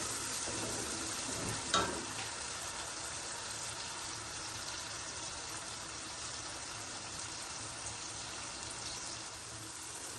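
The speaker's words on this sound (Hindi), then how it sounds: "अभी हम इसका थोड़ा सा हम इसका मसाला बनाएंगे ताकि ये टमाटर जो है ना ये जरा मेल्ट हो जाए, जरा गल जाए, घुल जाए इसके अंदर" Tomatoes cooking down into masala in a pan for a mixed vegetable sabzi, a continuous close sizzle and fry with a brief stirring scrape near the start.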